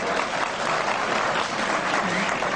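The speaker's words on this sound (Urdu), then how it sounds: "ہاشمی صاحب یہ تالیاں ٹھیک بج رہی ہیں نا؟" Studio audience applause at a televised political debate show, loud dense clapping filling the whole stretch without pause.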